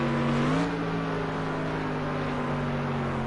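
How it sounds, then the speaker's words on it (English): GT3 race cars, an AMG chasing a Ferrari at the Algarve circuit in a racing video game, give a loud, steady engine drone whose pitch climbs briefly and then holds. "So the AMG is trying to catch up to the Ferrari."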